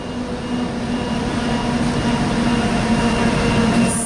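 Train passing a station platform on a New South Wales line near Cowan, a loud, steady rumbling roar of wheels and engine that holds throughout at close range, with a sustained low hum.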